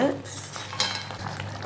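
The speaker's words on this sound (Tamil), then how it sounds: "நல்லா கிளறி விடுங்க." A spoon scrapes and stirs through a thick boiling crab pepper masala in a pan, with a soft bubbling sizzle underneath, heard close.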